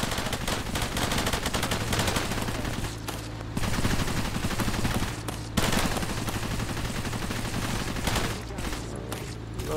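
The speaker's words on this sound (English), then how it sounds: "50 cal should be a help." A .50 cal machine gun in the video game Cepheus Protocol fires in long, rapid, loud continuous bursts, a dense rattling stream with only brief pauses.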